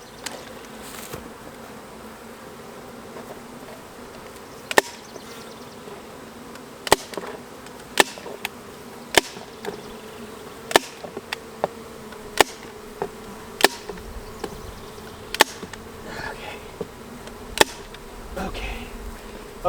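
Honey bees buzz around a nuc hive that is being closed up for sale, a steady close drone with a series of sharp tapping or stapling clicks punctuating it.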